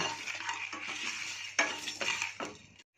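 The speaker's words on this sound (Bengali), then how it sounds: "গোটা মশলাগুলো আমি দু চার মিনিট ভালো করে সুন্দর করে ভেজে নেব" Whole spices are fried and stirred in a pan over a medium gas flame, with a scraping, clinking stir and a light sizzle that come in a few close bursts.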